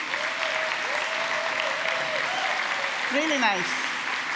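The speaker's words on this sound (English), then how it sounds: "let's give a round of applause for what they've been organizing" Steady applause from a conference keynote audience fills the room, with a voice speaking briefly over the clapping.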